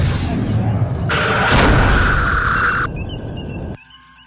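Starship torpedoes firing from forward tubes in Star Trek Bridge Commander, a loud booming burst of bright, crackling energy lasting nearly two seconds, then a softer tail with a thin tone before cutting off.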